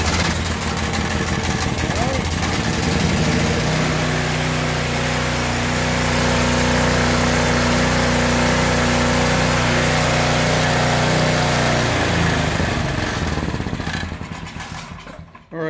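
A Simplicity snow blower engine runs continuously at a loud, steady drone, close by and unbroken for most of the clip before cutting off near the end.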